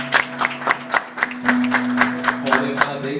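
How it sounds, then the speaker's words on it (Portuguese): Church congregation applauding together in a steady rhythmic beat, close and loud, with a sustained musical tone humming underneath throughout. "Vamos aplaudir Jesus?"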